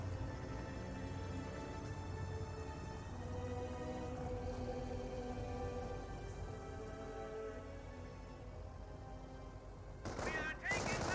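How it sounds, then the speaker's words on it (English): Mortar and rifle fire in a Company of Heroes 1 battle between US and Panzer Elite forces, a dense, continuous rumble of distant gunfire and explosions with a sharper burst of shots near the end. "Does get a great hit there with a mortar, very very nice."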